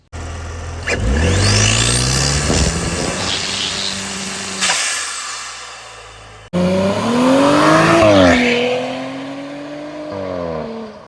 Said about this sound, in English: we're gonna be making a B9 Audi S4 go from sounding like this to this and this.